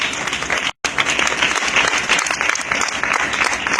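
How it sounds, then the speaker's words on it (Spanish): Loud church congregation applause for the Lord during a sermon, dense clapping that carries on throughout with a brief break near the start. "Denle un fuerte aplauso al Señor."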